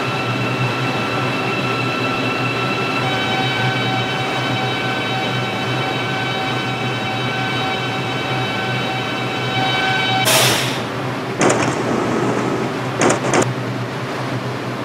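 A New York subway line 6 local train in a simulator hums steadily at a station for about ten seconds, with a steady electric whine. A burst of hissing air and door clatter follows, then more short pneumatic bursts near the end.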